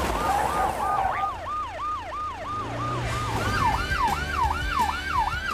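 An ambulance siren wails in a fast, regular up-down pattern while the vehicle drives to a patient, with engine rumble underneath and the siren loud throughout.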